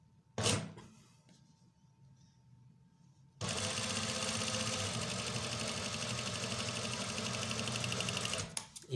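Domestic sewing machine stitching a straight single-thread seam along a cuff placket, running steadily and loudly for about five seconds after a brief handling thump, then stopping abruptly.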